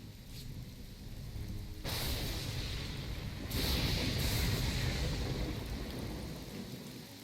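A thunderstorm in the Battle Realms video game: heavy, steady rain with deep thunder rumbles that swell in two loud surges, broad and enveloping with no talking.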